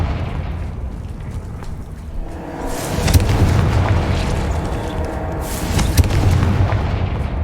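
The Confringo blasting spell detonates in Hogwarts Legacy, a couple of booming explosions with crackling bursts over a continuous rumbling background, loud and close.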